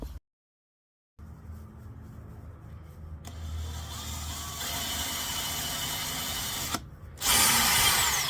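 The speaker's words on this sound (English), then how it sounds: "And from there, I could see the spot and drill." A power drill whirs steadily for several seconds after a brief silence, drilling a hole for drawer handles, then cuts out and restarts louder and higher-pitched near the end.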